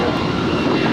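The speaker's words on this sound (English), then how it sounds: "That is Alaska 525 on its way to Seattle. It's an 11-year-old A320." Eleven-year-old Alaska Airlines Airbus A320 jet at LAX airport, a loud steady engine roar heard briefly and close.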